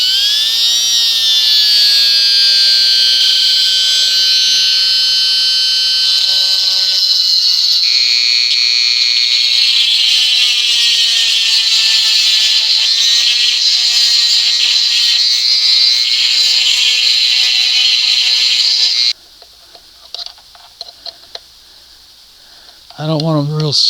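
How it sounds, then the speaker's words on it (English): Dremel rotary tool grinding a part of an old OMC outboard, a loud, high whine that rises and falls as it bites, running nearly twenty seconds before stopping, then short handling noises. "I'm going to get something, Dremel this out just a little bit so I have a little bit of adjustment"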